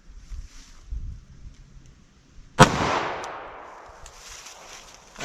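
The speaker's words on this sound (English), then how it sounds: "Swap the barrel on my Glock. Now we got Buffalo Bore 10 millimeter." A 10mm Buffalo Bore hard-cast round fires from a Glock pistol in a single loud, sharp crack, followed by a long fading ring and echo over quiet outdoor background.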